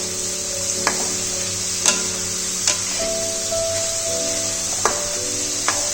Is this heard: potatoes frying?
yes